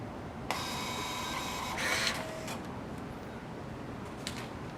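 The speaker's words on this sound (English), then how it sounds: "I see the printer have printed well the test receipt, so the printer is working fine." A kiosk receipt printer runs off a test receipt, a steady mechanical whirr that starts sharply, swells briefly and stops, with faint clicks after it over a low room hum.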